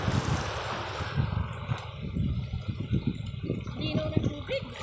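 A bangka, a small Philippine outrigger boat, on clear water, heard as a steady low rumble and splashing under gusty wind noise, with occasional faint voices nearby.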